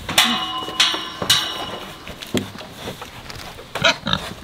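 Pigs on a farm grunt and oink in short bursts, mixed with sharp clanks and knocks from gear or gates as the animals are chased with a Kubota tractor.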